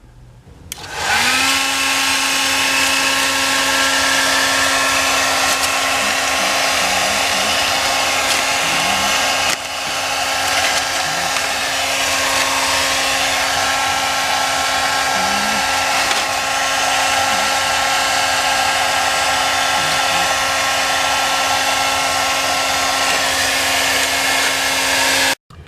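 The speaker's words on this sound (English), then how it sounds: "I like a hairdryer" A hairdryer blows steadily and loudly for the full length, warming decal tape on a Kawasaki H1 motorcycle, a constant whirring roar with a faint steady whine and no pauses.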